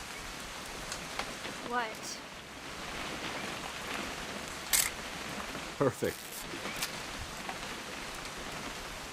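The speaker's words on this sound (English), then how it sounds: "It's gonna rain the whole weekend, isn't it?" Rain falls in What Remains of Edith Finch, a soft, steady patter running throughout the scene, with a few brief voices and sharp clicks breaking in over the constant wash.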